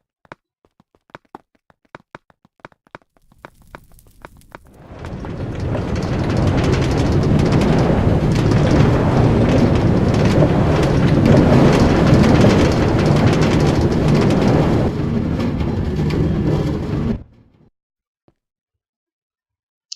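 A Minecraft minecart rolls along rails with a loud, even rattling roar that starts abruptly after a few faint clicks, holds steady for about twelve seconds, then cuts off.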